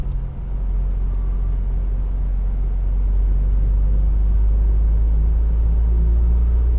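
An empty truck rolls along the road, its steady low engine rumble and road drone holding constant and close throughout, with no other sounds on top.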